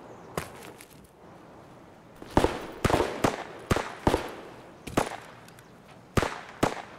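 Gunfire in the shooter game Escape from Tarkov: about nine sharp, cracking shots in irregular bursts, some doubled, moderately loud over a quiet outdoor background with no talk.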